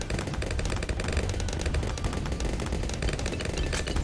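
Rapid, dense crackle of bomb shooter towers firing in the Bloons tower defense game, Frozen Over map, a continuous loud barrage of overlapping pops with no pauses and no talking.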